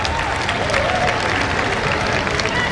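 A crowd applauds at a women's cricket match, a dense steady burst of clapping that fills the short stretch at high volume.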